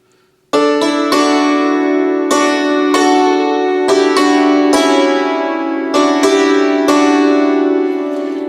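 Block chords are struck on a hammered dulcimer, several notes hit together at a time in a slow, even sequence, each chord ringing out with a bright metallic shimmer, close and solo after a short pause.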